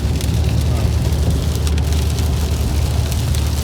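Heavy, steady rain pouring down continuously, heard from a car on a rainy day in Kerala, a dense unbroken hiss of drops with a low rumble beneath and no pauses.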